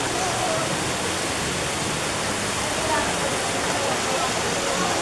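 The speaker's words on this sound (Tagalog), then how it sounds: "Mini waterfalls." Mini waterfalls and a river stream rush steadily at The Balite Hideout, a dense, close, unbroken roar of flowing water with a faint voice mixed underneath.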